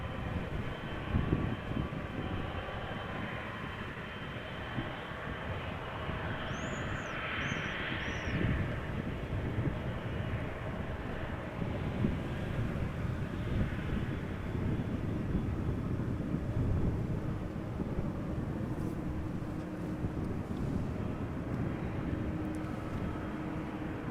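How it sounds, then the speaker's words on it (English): A 19-year-old Delta Air Lines Airbus A330-300 on approach to the runway threshold at Amsterdam Schiphol, a steady broad jet roar with a distant, continuous rumble throughout and a few faint bird chirps above it. "Delta Airlines Flight 47 is approaching the runway threshold. It is an A330-300, 19 years old."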